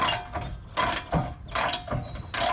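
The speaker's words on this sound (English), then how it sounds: "The ratchet." A hand ratchet works a bolt on the rear bumper of a 2002 Jeep Wrangler, giving about five bursts of close, crisp clicking separated by short pauses.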